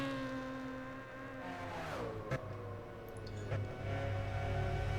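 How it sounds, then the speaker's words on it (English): A McLaren F1 engine screams at high revs in the Gran Turismo 6 racing game at the Nürburgring, a sustained rising and falling whine with steady loud harmonics running throughout. "Just absolutely screaming there with that glorious, totally accurate engine sound that GT6 is known for"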